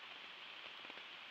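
Steady rain falls on a backpacking campsite on a solo overnight trip at Quebec Run, a soft, even hiss with faint patter, heard alone and fairly quiet.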